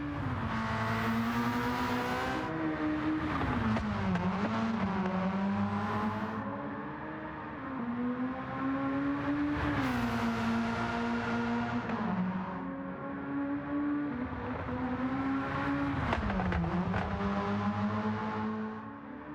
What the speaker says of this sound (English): let you listen to the sound of the engine properly without me talking over it